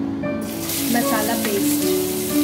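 Masala paste for fish kalia fries loudly in a pan with a steady sizzle while it is stirred. The sizzle swells as the paste hits the oil, and faint scraping of the stirring runs underneath.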